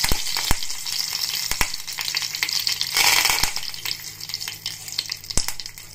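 Curry leaves spit and crackle in hot oil for a coconut chutney tadka, a dense steady sizzle with several sharp popping bursts, close and fairly loud, no voices.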